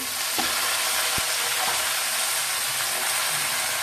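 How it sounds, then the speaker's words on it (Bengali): Pumpkin greens hit a pan of reddened frying onions, giving a steady loud sizzle throughout with a few soft stirring knocks. "এবার আমি শাকটা দিয়ে দেব।"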